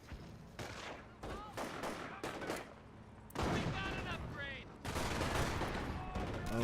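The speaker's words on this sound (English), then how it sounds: "we have both snipers fired off" Gunfire crackles through a Company of Heroes battle, with several sharp rifle reports and bursts coming in separate clusters at a moderate distance, among them sniper rifles firing off.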